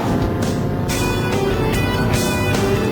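Diesel car being driven on the Top Gear test track, a steady loud engine drone with dense broadband road and wind noise, brief surges as it passes through corners.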